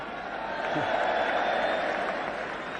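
A 1975/76 football crowd at Tottenham Hotspur against Middlesbrough applauding and murmuring together, a steady distant wash of clapping and voices that holds evenly throughout.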